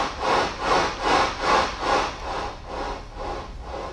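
Synthesized bullroarer wind made from bandpass-filtered noise: a breathy, whooshing hiss that swells and fades in regular waves about twice a second, gradually softening, heard alone.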